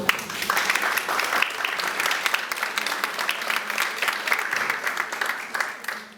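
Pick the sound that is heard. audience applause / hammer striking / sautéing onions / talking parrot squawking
audience applause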